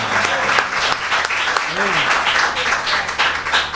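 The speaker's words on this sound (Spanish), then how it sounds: "Dale esa ofrenda de palmas si tú lo crees." Church congregation applauding during a sermon, a steady dense wash of clapping throughout, with a brief voice briefly audible under it.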